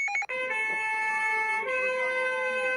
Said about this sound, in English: driving an ambulance